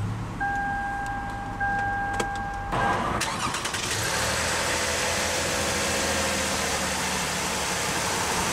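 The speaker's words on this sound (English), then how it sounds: "we'll go ahead and start the engine, and it does have push-button start" A chime sounds, then a 2014 Lexus RX 350 engine cranks via push-button start and catches, settling into a steady, smooth idle close by.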